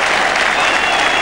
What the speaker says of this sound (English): The England players come out to applaud what really has got to be a moment here of cricket